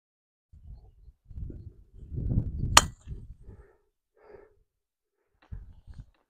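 A golf ball struck with a driver on a course, a single sharp crisp crack standing out clearly between quiet rustling and breathy background sounds.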